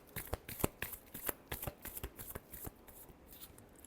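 Tarot cards being shuffled by hand, a quick run of crisp, close riffling snaps in an uneven rhythm, thinning out toward the end, with no talk.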